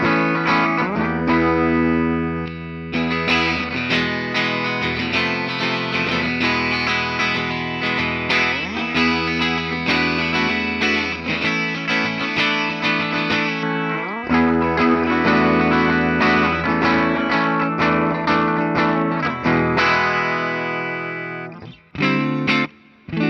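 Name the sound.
Peavey EVH Wolfgang electric guitar, bridge pickup coil split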